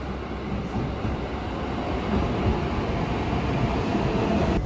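A continuous low rumble and rattle of a train to Omiya, Japan rolling along the rails, steady and close, as heard from inside a carriage.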